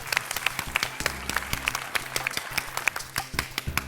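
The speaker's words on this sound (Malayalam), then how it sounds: "ഇനിയാണ് കൈയടിച്ച് പ്രോത്സാഹിപ്പിക്കുക" A small audience at a comedy magic show claps: sharp, distinct hand claps in a loose, uneven rhythm, close and clear, with no talking over them.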